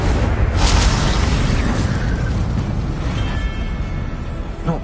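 The Incendio fire spell is cast in Hogwarts Legacy: a loud, roaring burst of flame that stays dense and sustained for several seconds, tapering slightly toward the end.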